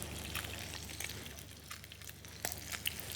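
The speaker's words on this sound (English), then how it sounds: "Quick little shake just to make sure it's not stuck on the pan." A pan of thin pancake is shaken on the stove while it sizzles steadily, with short scraping bursts rising over the constant frying hiss.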